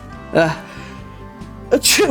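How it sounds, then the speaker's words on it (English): Two quick sneezes from a Minecraft SMP game, one short and one sharper and louder, burst out over a steady background hum. "Well, I'm gonna sneeze."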